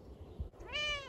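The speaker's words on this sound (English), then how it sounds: "Little sunshine kitty." A cat meows in warm sunshine: one clear, rising meow near the end, following a moment of quiet low rustling.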